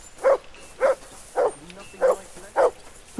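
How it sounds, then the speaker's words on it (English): A dog barks in the medieval video game Kingdom Come: Deliverance II, six evenly spaced barks at a steady rhythm, fairly near and clear, with no speech. "Hey, why are you barking?"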